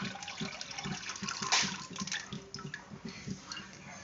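Milk from a one-litre packet is poured into a pan for homemade paneer, a continuous close liquid splash and gurgle lasting several seconds with a brief louder burst partway through.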